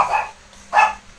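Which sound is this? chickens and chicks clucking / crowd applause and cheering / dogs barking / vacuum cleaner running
dogs barking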